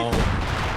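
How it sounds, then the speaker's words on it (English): A single artillery shot in a video game: one sudden, loud blast that rings on in a short, droning tail. "this artillery is pinging away"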